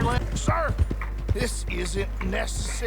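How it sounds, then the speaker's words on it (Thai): A horse's hooves clip-clop at a steady riding pace in Red Dead Redemption 2, under someone speaking Thai and game background sound. "ค่อยๆขี่ม้าไป"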